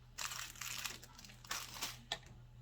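Quiet crinkling and crisp snipping of a paper tag being cut off a craft acorn piece, several short rustling bursts close by at low level.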